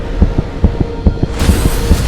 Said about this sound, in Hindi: पापा के दिल की धड़कनें इतनी तेज।